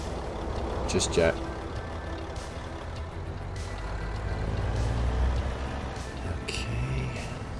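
A Kenworth W900 truck with a Caterpillar C10 engine pulls off in second gear in American Truck Simulator, a low, steady diesel rumble with faint hisses and clunks beneath someone talking throughout.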